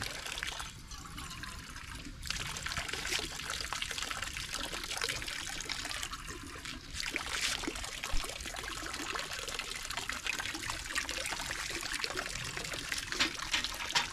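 Water trickling steadily into an ancient stone water basin at a megalithic site in Japan, a continuous close splashing and dribbling that runs alone throughout.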